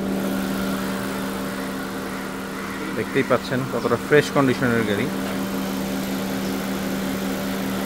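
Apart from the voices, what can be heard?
Honda CR-V 1500cc engine running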